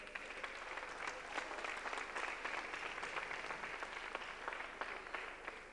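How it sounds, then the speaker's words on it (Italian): Audience applause at an international guitar festival evening, a steady dense clatter of many hands clapping throughout, moderately distant with no voices over it. "Un bel applauso."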